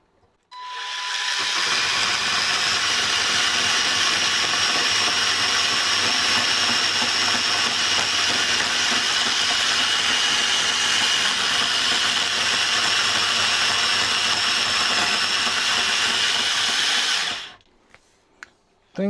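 A Parkside X20V cordless band saw cuts through aluminium, a loud, continuous buzzing drone lasting about sixteen seconds before the motor winds down and stops, leaving a few faint clicks.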